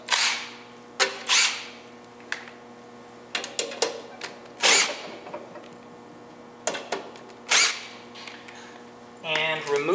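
A power drill backs screws out of the bottom box of a kiln in several short whirring bursts separated by pauses, close and fairly quiet, with a brief clatter near the end.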